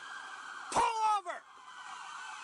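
A police car siren in a video game sweeps up and falls away in one short, loud wail over a quiet background hum.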